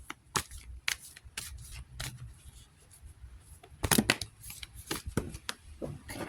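Tarot cards shuffled by hand, with repeated crisp riffling bursts and soft slaps in an irregular rhythm, close up, plus a denser flurry midway through and no one talking.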